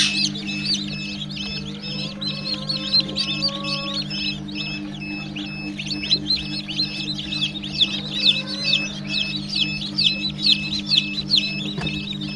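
Many tiger-breed chicks, including layer and Fayoumi types, cheep continuously in a dense high-pitched chorus at a poultry farm, with a few clucks from older chickens over a steady low machine hum.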